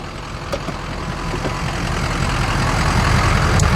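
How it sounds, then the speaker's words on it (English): A 2003 Ford F-250 truck engine runs smoothly at a steady idle, a continuous low rumble that swells slightly louder toward the end, with no talking. "Motor runs smooth, transmission shifts without issue."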